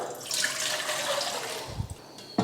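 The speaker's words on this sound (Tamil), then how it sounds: "இப்போ இட்லி பாத்திரம் வச்சு தண்ணி ஊற்றிக்கலாம்" Water splashes and pours into a metal idli steamer pot nearby, a brief gushing stream that trails off with a few clinks.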